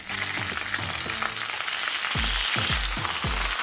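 Eggplant slices fry in a hot pan with a loud, continuous crackling sizzle up close, under which a series of low, dull thumps repeats as the pan is moved; no voices.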